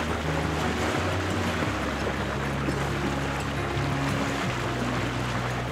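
A small sailboat motors across the Scandinavian sea under engine power, its low steady chugging drone constant and close, with the wash of water and wind around the hull.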